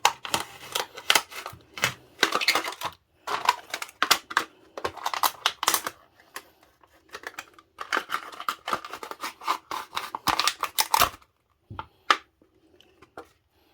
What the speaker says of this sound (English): boom, we cut more of the Coke bottle off